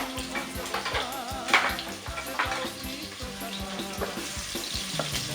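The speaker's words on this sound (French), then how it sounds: "On va faire revenir les oignons." Onions sizzle and crackle steadily in hot oil in a cooking pot, with a spoon stirring them now and then. Nobody speaks.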